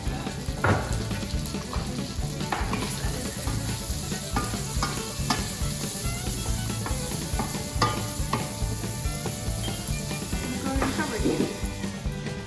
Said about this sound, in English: Throw in some onions there, let those render down with that bacon.